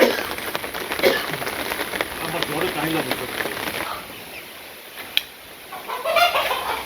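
Chickens cluck and call nearby in short, irregular bursts, with people talking in the background among them.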